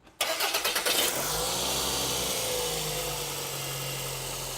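Car engine cranking with a quick series of starter chugs for about a second, then catching and settling into a steady, close idle with a faint whine from the accessory belt drive.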